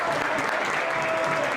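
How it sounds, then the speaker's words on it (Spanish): A crowd applauds loudly and steadily at a freestyle rap battle in a full studio, dense clapping filling the whole moment. "por favor, fuerte aplauso"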